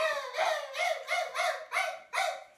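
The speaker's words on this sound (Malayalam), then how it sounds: "ഒരു ചെറിയ നായും വലിയ നായും ഉണ്ട്." A pet dog named Julie gives a run of six quick, high-pitched barks or yelps in steady rhythm, close by and loud, with no other sound between them.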